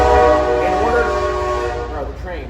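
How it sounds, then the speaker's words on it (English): A loud train horn blares with a sustained chord over the rumble of a passing train, close by and steady before easing slightly. "the train, unbelievable."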